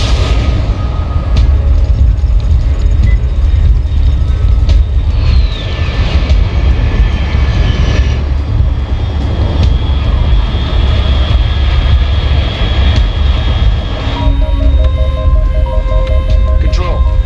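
Aircraft engine droning steadily overhead in the Metal Gear Solid Delta video game, a loud continuous roar with a faint descending whine, persisting throughout alongside other game sounds.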